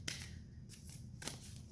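New Wild Unknown Animal Spirit tarot cards being shuffled by hand, faint close papery riffles with two or three brief sharp flicks over a soft background hiss, no voices.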